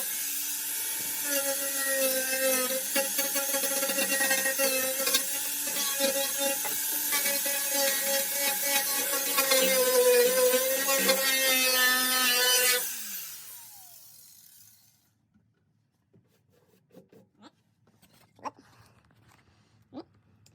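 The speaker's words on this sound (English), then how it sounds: "Just need to sand that other part" A power tool sands the body of a 1983 Volvo 242, whining loud and steady for about thirteen seconds before cutting off, followed by faint handling clicks and near silence.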